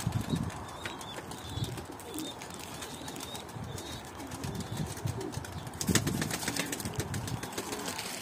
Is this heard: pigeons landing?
yes